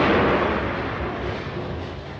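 A hand grenade explosion bursts loud and broad, then rolls off into a decaying rumble over about two seconds with no voices.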